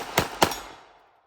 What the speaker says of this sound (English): this thing shoots really well